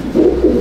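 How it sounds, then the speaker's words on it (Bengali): Abluk Madrasi pigeons give a soft, close cooing call, two rounded low coos in quick succession, with no talking over them. "এই এক জোড়া আবলুক পায়রা"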